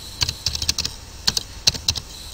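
A computer keyboard is tapped while a password is typed, with irregular clusters of crisp, close keystrokes separated by short pauses and no voices.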